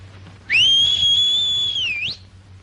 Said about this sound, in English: Give him a whistle.